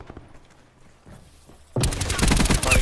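Sudden dense burst of video game gunfire in a team deathmatch, loud and continuous after a quieter stretch of faint thuds and clatter, with rapid overlapping shots filling the rest.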